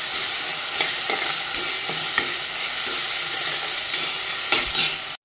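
Onion with grated ginger fries in a pan for paneer fried rice, a constant close sizzle with periodic spatula scrapes and a few sharper clinks, no voices.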